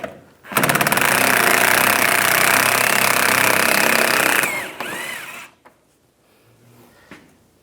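Power screwdriver whirring continuously for several seconds while backing out Phillips head screws from the valance panel of a 2010-2014 Cadillac SRX, then winding down, followed by a few quieter clicks and handling knocks.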